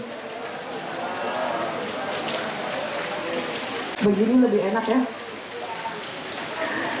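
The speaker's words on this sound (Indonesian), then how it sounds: "Cuaca mendung, hujan bahkan sedari tadi." Rain falling steadily on a surface during an outdoor community charity event, a constant soft patter under a person talking briefly in the middle.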